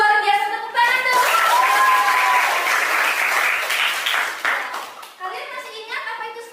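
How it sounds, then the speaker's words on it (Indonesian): A classroom of children claps in a burst of applause lasting a few seconds, with young voices and a teacher talking before and after it. "Luar biasa, tepuk tangan dong."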